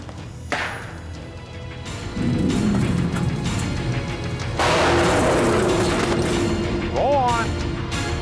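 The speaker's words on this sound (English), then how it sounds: "He deploys a cherry bomb." A cherry bomb explodes to scare off a bear: a sharp bang, followed by a rumbling boom and crackling outdoor noise, with a voice briefly shouting near the end.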